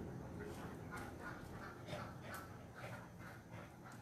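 A dog gives soft, faint barks and whimpers outdoors on a sunny morning. The sounds come in a loose series of short yelps under low background noise.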